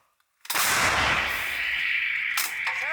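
One loud, sharp blast of an M777 howitzer firing nearby, its boom ringing out and slowly decaying, with a metallic clatter after.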